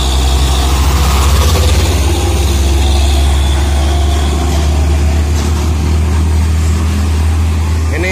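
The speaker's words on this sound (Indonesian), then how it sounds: "Hino 500 peti kemas bosku. Di salip Hino Dutro." Hino trucks climb a steep hill as a Hino Dutro overtakes a Hino 500 container truck, a heavy, steady low diesel rumble close by that holds throughout without breaks.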